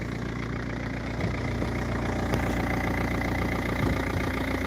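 An engine idling nearby with a steady low rumble and regular mechanical ticking, a couple of faint clicks on top, no voices.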